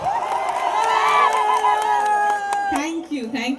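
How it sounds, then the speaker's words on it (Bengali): A crowd cheers with scattered claps and a long sustained shout that fades out after a few seconds. "তার জন্য একটা জোরে হাততালি হোক।"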